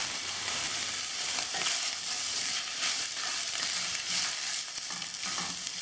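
Sliced onions for a Kerala-style kadala curry sauté in a pan, giving a steady, close frying sizzle with soft bubbling and occasional stirring noises, no voices present.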